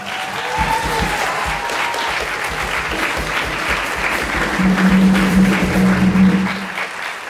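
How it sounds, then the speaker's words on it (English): An audience applauds steadily at a university video game music ensemble concert, a full, sustained clapping that swells slightly toward the end, heard on its own without speech. "Let's give them all a huge round of applause."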